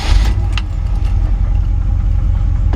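A 1955 Chevrolet Bel Air with its original 265 V8 and Powerglide transmission runs steadily at idle just after starting. The engine rumble is loud and close, with no talking.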